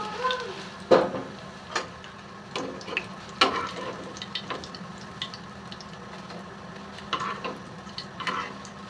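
Steady oil sizzle from shrimp fritters frying, broken by occasional sharp crackles and pops, with faint clinks of a utensil.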